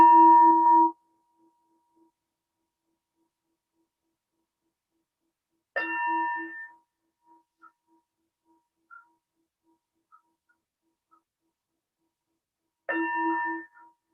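Three widely spaced strikes of a meditation bell, each a clear ringing tone with harmonics that fades over about a second, separated by long stretches of silence.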